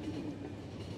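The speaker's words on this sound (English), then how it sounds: "No, there's a train back there." A train rumbles in the video game The Final Station, a low, steady rolling clatter heard faintly for about a second, with no talk.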